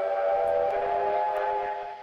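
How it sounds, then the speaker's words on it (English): Steam whistle of a CO17 steam engine in the Trainz: A New Era game, one loud continuous tone held for about two seconds that fades slightly at the end, heard alone. "The whistles are interesting, not brilliant in quality"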